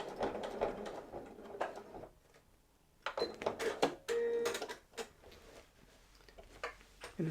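A domestic sewing machine stitches forward across fabric for hanging storage pockets, heard as quiet bursts of fast mechanical rattling separated by short pauses.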